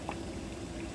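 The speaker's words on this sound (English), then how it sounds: "we've got some bubbling water" Water bubbles at a low, steady simmer in a cooking pot, a faint continuous gurgle with no voices.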